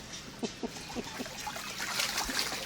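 Water trickles and splashes in small irregular bursts at an eco park swimming spot, close and fairly quiet, with no speech.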